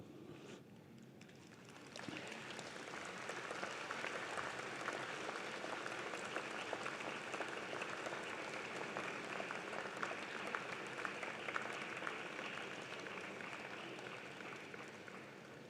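An audience at a university fall convocation applauds after a brief quiet start, with steady, dense clapping filling the hall and continuing evenly to the end.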